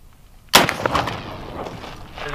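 A single loud blast from a 20 mm cannon fired at a titanium block, a sharp sudden boom followed by a rumbling echo that slowly fades outdoors.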